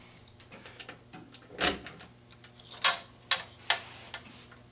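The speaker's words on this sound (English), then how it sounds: "We'll start off by removing power and opening the front coin door." A Bally pinball machine's front coin door being unlocked and swung open, with a few sharp metallic clicks and clacks of the latch and hinges, close and fairly quiet, with no talk.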